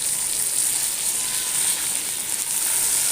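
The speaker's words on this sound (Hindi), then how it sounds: "चिकन को जब तक फ्राई करूंगी तब तक चिकन का कलर चेंज ना हो जाए" Chicken pieces frying in a pan for Afghan Kabuli pulao, giving a steady, even sizzle with a bright hiss that holds at one level throughout, fairly close and with no talking.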